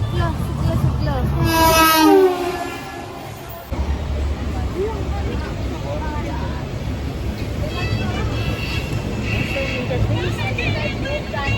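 Steady rumble and rattle of a moving train carriage, with passengers' chatter and a brief whistle-like tone early on.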